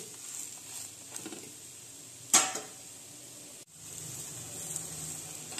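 Thalipeeth made of ragi flour and drumstick leaves roasting on a hot pan, giving a steady soft sizzle with one sharper crackle burst partway through.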